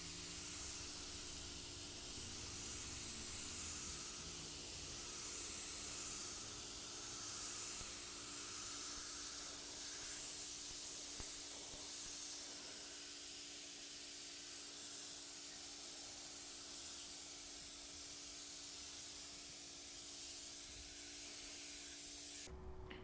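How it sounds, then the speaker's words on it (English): Dye is sprayed as a light mist coat onto worn carpet in a Craftsman v118 vehicle: a continuous close hiss of spray that holds steady for the whole stretch with no talk. "spraying a light mist coat on the surface"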